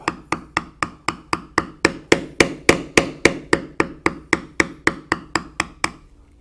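A mallet strikes a metal leather-carving tool on leather about twenty times in a steady rhythm, crisp close knocks that build louder in the middle and then taper off softer, with no speech.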